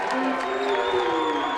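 Home crowd at a high school boys basketball game between Monona Grove and Fort Atkinson roars after a corner three-pointer, a loud sustained wall of cheering with a whistle-like tone and voices mixed in.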